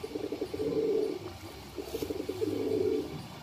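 Deoband fancy pigeons cooing in a coop, two long rolling throaty coos close by with a brief pause between, faint background hiss and no talking.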